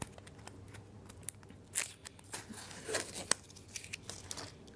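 A pack of 1978/79 Topps baseball cards is torn open by hand: short, sharp rips and crinkles of the wrapper come in irregular bursts over a quiet background, close up and with no voices.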